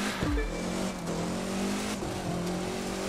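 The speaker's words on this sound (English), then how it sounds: "Why not cruise down the mountain?" A car engine hums steadily as it cruises down a mountain road in The Crew 2 racing game, with a sustained mid-level drone and slight pitch shifts, alone without speech.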